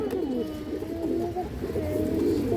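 A female Hurricane breed pigeon coos close by in soft, repeated throaty phrases, faint and alone with no voices.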